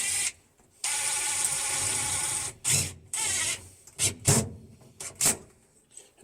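The worm-screw clamps on a NASCAR Toyota Supra fuel-cell hose are tightened by hand, giving rapid ratcheting clicks in several short bursts with brief pauses between turns, close and clear.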